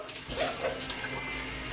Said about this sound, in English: Just rinsing this celery now